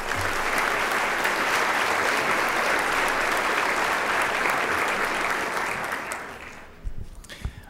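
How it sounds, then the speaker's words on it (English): An audience at a scholarship banquet applauds loudly and steadily for several seconds, then the clapping thins out and fades to a few scattered claps. "You deserve a big round of applause."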